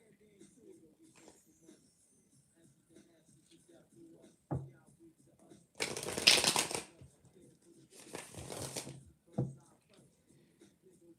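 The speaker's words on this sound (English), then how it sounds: "let me just shuffle these two right quick because I didn't shuffle them yet" Oracle cards shuffled by hand during a live reading: two loud, close bursts of crisp riffling flutter, each about a second long, with softer handling taps and low talk around them.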